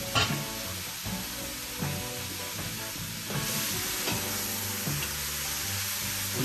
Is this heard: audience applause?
no